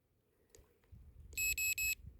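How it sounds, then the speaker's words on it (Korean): Battery-powered electric pruning shears give three quick, bright beeps close by as the power switches on, after a few soft handling knocks. "꾹 누워 있으면은 삐삐삐삐 소리가 나면서 전기 들어가는 소리가 납니다"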